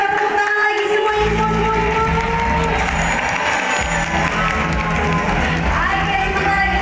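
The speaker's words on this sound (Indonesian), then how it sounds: "boleh saya minta tepuk tangan lagi semuanya" Audience at a dolphin and sea lion show, crowd cheering and clapping loudly and continuously under a steady musical backing, with scattered whoops and shouts throughout.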